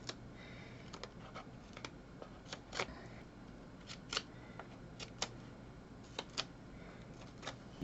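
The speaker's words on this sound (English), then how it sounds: "So now we just need to snip into them corners. Because this is a bit smaller, I'm just going to pull out these tiny scissors." Tiny scissors snipping into fabric corners while lining the inside of a miniature wardrobe, giving a series of quiet, sharp clicks at irregular intervals over a faint background hiss.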